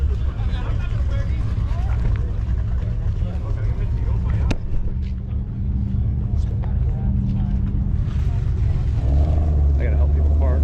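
Cars roll in to a Shelby Day Supercar Sunday car show, engines rumbling low and steady with one passing closer near the end, under outdoor crowd noise and someone talking.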